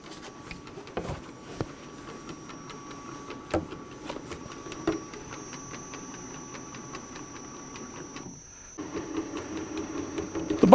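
A Frain front-back bottle labeler runs with its spacer wheel separating bottles, giving a low steady mechanical hum with regular light ticks and clicks and occasional sharper knocks from bottles.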